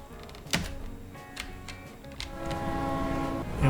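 A train departs in the railway strategy game Railway Empire 2, with a horn blast, sharp clanks and a rising rumble of rolling wheels building toward the end.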